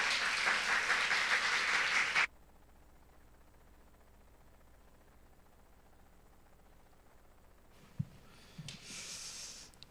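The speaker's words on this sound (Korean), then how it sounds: "마음을 담아서 우리 박수로 선교사님을 맞이하겠습니다." A church congregation claps in dense, loud applause for about two seconds, then it stops abruptly and the room falls nearly silent. A few faint bumps and rustles follow.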